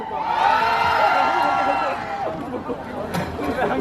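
Festival crowd at a concert at Kyung Hee Cyber University roars and cheers, a dense sustained wall of shouting and whoops that stays loud throughout, with a few sharper cries rising out near the end.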